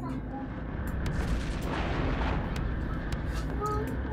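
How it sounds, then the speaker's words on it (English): Continuous rumbling cannon fire from ships in the space video game Eve Echoes, with dense low booms and bursts, steady and loud throughout, like distant artillery in a game battle. "Cannons there looking for their targets."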